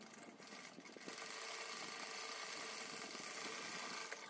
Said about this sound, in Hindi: अभी हम इसको एक बार सिलाई लगाएंगे